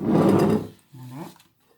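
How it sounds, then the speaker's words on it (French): Melted chocolate stirred into beaten egg yolk and sugar for a praline dome dessert, heard as a close, loud scraping rub against the bowl. A shorter, softer stirring stroke follows after a brief pause. "On incorpore et on mélange."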